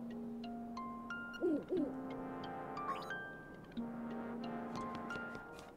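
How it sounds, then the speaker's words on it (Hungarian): An owl hooting in The Legend of Zelda: Link's Awakening on Nintendo Switch, two short warbling hoots over sustained musical tones, clear and alone without talk. "Ott a bagoly."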